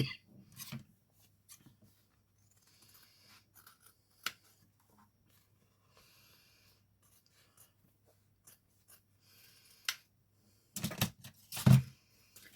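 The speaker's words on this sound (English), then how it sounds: "So I've just cut enough fabric to cut that heart shape" Scissors snip through faux leather fabric in scattered short cuts and rustles, quiet and close, ending with a burst of several sharper snips.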